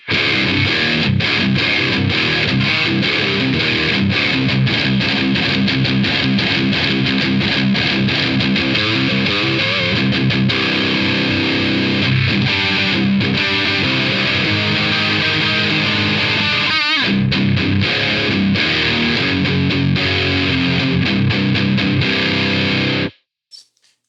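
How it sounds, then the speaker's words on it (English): A Joyo Taichi distortion pedal plays a continuous, loud, saturated electric guitar riff for about 23 seconds with no one talking, then stops abruptly at the end. "that's a decent sounding distortion"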